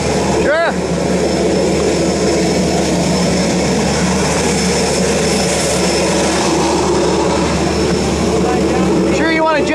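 Steady, loud drone of an airplane engine fills the cabin of a skydiving aircraft throughout, with people talking and shouting over it.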